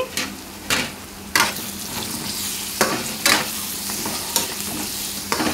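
A ladle stirs Andhra-style crab curry in a frying pan. Sharp scrapes and clinks recur every second or so over a constant close sizzle, with no one speaking.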